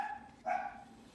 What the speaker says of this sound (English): I think that's my dog crying in the back